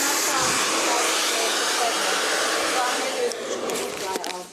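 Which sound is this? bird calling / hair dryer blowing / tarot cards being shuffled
hair dryer blowing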